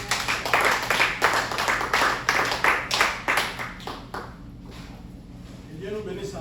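Church congregation clapping and cheering together to welcome pastors up to preach, a dense burst of applause that fades out midway, with a voice speaking beneath the noise.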